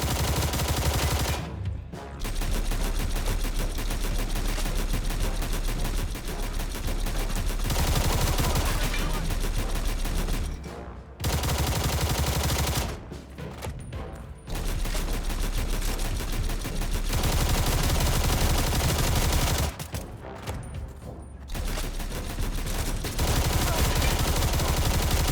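Sustained gunfire in the Stalcraft: X video game, long loud bursts of rapid automatic shots broken by a few short pauses.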